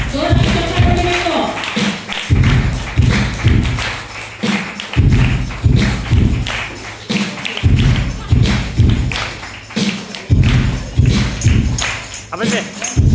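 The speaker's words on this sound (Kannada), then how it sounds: "ಜೋರಾಗಿ ಚಪ್ಪಾಳೆ ಹೊಡಿಬೇಕು." A church congregation claps loudly in steady rhythm during a ministry anniversary celebration, the dense repeated hand strikes thumping over singing or voices throughout.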